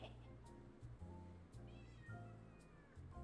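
A pet cat named Genghis meows repeatedly indoors, a few drawn-out, rising cries close by over a steady low hum, with people talking softly around it.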